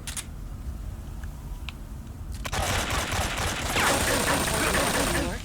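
Video game gunfire in Metal Gear Solid 3: a fairly quiet stretch with a few sharp clicks gives way to dense, rapid automatic bursts that grow loud and continuous for the final few seconds.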